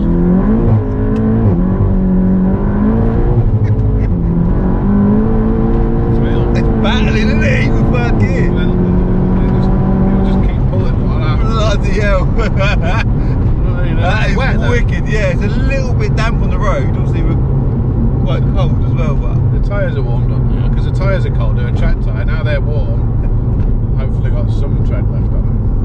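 VW Golf GTI Clubsport, a front-wheel-drive stage 3 track build, pulls hard in second gear with a loud, rising engine note. The engine revs climb steadily with continuous road and engine noise, and people talk over it throughout.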